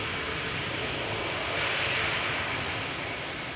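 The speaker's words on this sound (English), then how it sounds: "this is an A321 Neo from Pegasus arriving from Istanbul" Pegasus Airbus A321neo arriving from Istanbul at Amsterdam Schiphol, a steady broad jet engine rumble with a thin high whine, even and moderately loud, no talking.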